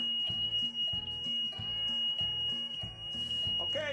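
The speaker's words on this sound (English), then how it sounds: "And then I got my reverse buzzer," A vehicle reverse buzzer on a Heald Hauler sounds a steady high-pitched electronic tone continuously over a rhythmic low-pitched pulsing pattern, loud and close.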